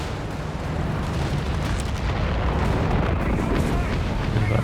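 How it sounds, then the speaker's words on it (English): An artillery barrage in Company of Heroes 3, a continuous rumbling roar of overlapping distant blasts and booms that builds slightly toward the end, with a voice talking over it. "Bit of artillery right at the tail end."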